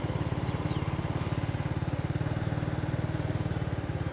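Motorbike engines on a Vietnamese city street give a close, loud, steady pulsing putter that stays continuous throughout without speech.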